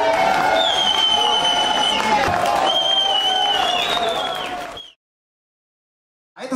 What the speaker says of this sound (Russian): Аплодисменты ваши, друзья!